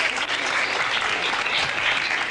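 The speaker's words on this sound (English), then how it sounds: "You got the big crowd cheer though." Studio audience on a 1990s daytime talk show breaks into loud, sustained applause with cheering mixed in, a dense wash of clapping that fills the room without a pause.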